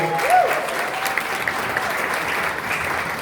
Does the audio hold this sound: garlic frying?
no